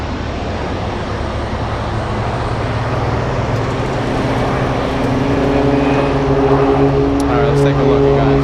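A Douglas DC-3 propeller plane moves at Anchorage Airport on a windy day, its radial engines giving a steady droning rumble with tonal hum that grows slightly louder toward the end, with wind noise and a voice over it.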